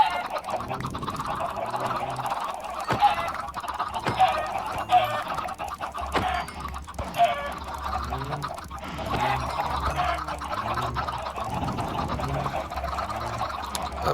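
Chickens in the Minecraft video game cluck and burble over and over throughout, a steady flock of game sounds at moderate loudness with occasional clicks.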